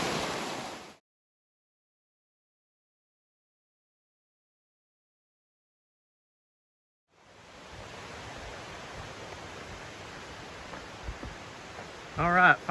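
Water flows along Deep Creek in the Great Smoky Mountains, a steady broad rushing wash heard briefly, then after several seconds of silence returning and holding steady, with a few louder bumps near the end.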